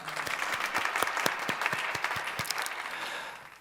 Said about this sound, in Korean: 우리 주님께 영광의 박수 올려드리기 원합니다